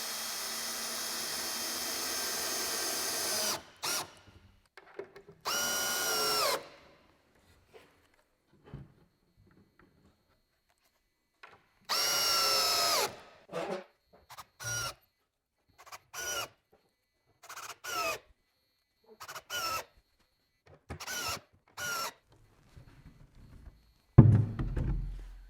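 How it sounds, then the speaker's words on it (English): A power drill drives 2-inch GRK screws into wood during a tool trailer build-out, with several whirring bursts of a few seconds each, broken up by quiet gaps and short clicks and knocks. "For this, I'm just going to use some 2-inch GRK screws"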